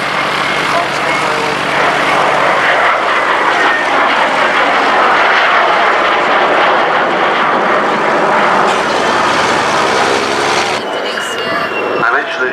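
A Gloster Meteor T.7 jet trainer flies past at an airshow, its engine roar loud and broad. The roar swells and then fades toward the end, with commentary running over it.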